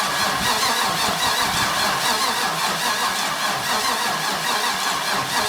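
A Mazda Miata with a swapped LS V8 starts for the first time, a loud, steady engine roar running unbroken and close throughout.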